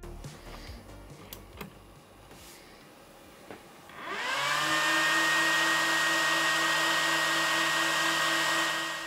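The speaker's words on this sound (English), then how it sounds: "the fan noise is really loud" A small Elegoo Mini Heater fan switches on partway through and runs loudly and steadily, a broadband whoosh with a constant motor whine and hum, after some quiet room tone and faint knocks.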